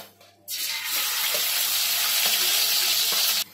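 Masala paste (vatan) drops into hot oil for dry mutton and bursts into a loud, steady sizzle that holds for about three seconds before cutting off abruptly.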